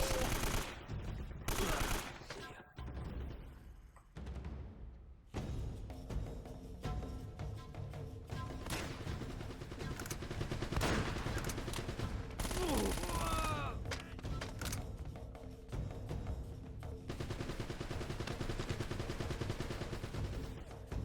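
Video game gunfire, with repeated sharp shots and bursts scattered through a noisy, busy soundscape, some loud and close, others fainter, over a continuous rumbling background.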